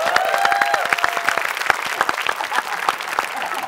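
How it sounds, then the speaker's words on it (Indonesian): Audience clapping at a comedy roast show, a dense run of sharp claps from a crowd that holds steady for several seconds, with a brief sustained tone near the start. "Oke, di sini yang tahu lagu Bukan Boneka KKY tepuk tangan?"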